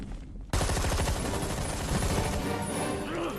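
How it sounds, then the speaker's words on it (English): Heavy gunfire from several shooters in Resident Evil 6 erupts after a brief quiet start, a dense, continuous roar of overlapping shots that stays loud and near to the end. "Got 4 people shooting at you."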